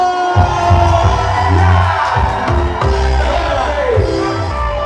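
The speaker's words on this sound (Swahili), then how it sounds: "Wapi makofi na kelele, Kahiu!" Live show audience cheering and shouting over a loud, thumping bass-heavy music beat, a dense crowd roar that stays steady throughout, with a voice calling out at times.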